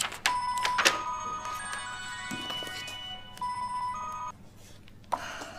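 A telephone rings for an incoming call in a rural Chinese home, its bright electronic tones repeating over several seconds before cutting off, with a quiet room around it.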